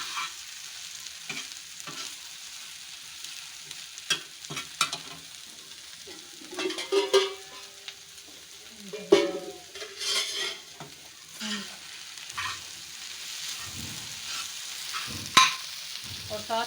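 A noodle omelette fries in a hot pan after being flipped, a steady soft sizzle under repeated stirring and scraping with a utensil, close and without talk.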